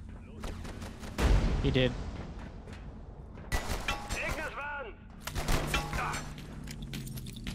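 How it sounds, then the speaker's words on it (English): Video game gunfight in Abiotic Factor: a burst of heavy gunshots and booming blasts in several loud clusters, with voices talking in between and over the firing. "But this is now a gunfight."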